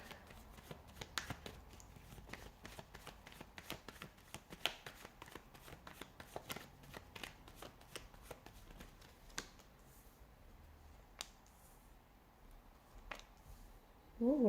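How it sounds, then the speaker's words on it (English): Tarot cards being shuffled by hand during a reading: a long run of quick, crisp riffling clicks and card slaps, close and fairly quiet, easing off toward the end. "give the cards a shuffle"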